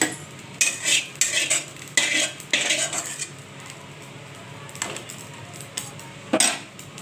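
Fish roe rinsed in a metal strainer, with clattering, scraping metal-on-metal clinks and knocks in irregular bursts, fairly close, with no talk.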